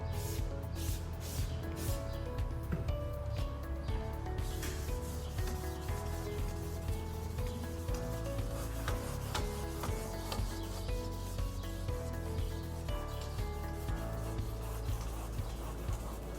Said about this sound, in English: you have to be careful with the wet sanding